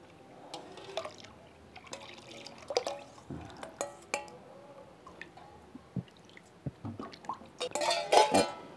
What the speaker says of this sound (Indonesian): gula merah yang sudah kita encerkan ya nah ini nah, ini saya tambahkan langsung kemari kita aduk ya